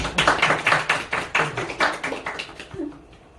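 A seminar audience claps steadily for an instructor, a dense run of sharp hand claps that keeps an even rhythm and thins out toward the end.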